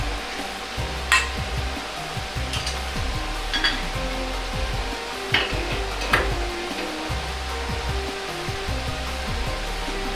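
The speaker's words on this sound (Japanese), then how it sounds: "お玉の中に卵を入れ広げるように焼いていきます。" An egg spreading and cooking in a ladle for Chinese egg dumplings gives a steady sizzle under a constant low hum, broken by a few sharp clinks and scrapes of utensils against metal.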